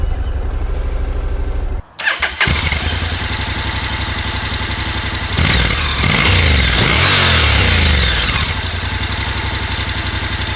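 A 2022 Honda NC750X DCT motorcycle engine starts up, settles into a steady idle, then pulls away with rising revs and gear changes, close and loud with no talking.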